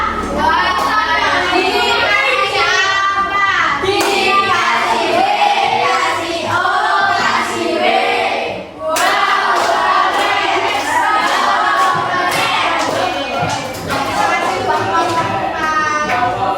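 Schoolchildren in a civics classroom do a loud group clapping routine for a classmate, with chanting voices over rhythmic hand claps that carry on almost without a break except for one short pause midway.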